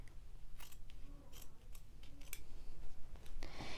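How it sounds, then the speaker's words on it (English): Scissors snip through fabric selvages in a sewing project, giving a quick series of close, crisp blade closures with short pauses between cuts, heard alone without talk. "I'll cut my fabric."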